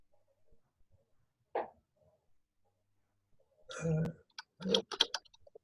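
A few scattered clicks, then a quick burst of rapid key taps near the end, like someone typing on a keyboard in a quiet room.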